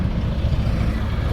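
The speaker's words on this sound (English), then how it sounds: "A lot of lorries and caterpillars and stuff all in the background." Low rumbling engine noise from lorries and caterpillar tracked vehicles at the Newark show, a steady drone in the background with no voices.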